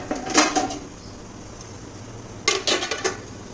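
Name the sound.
steamer pot with water being handled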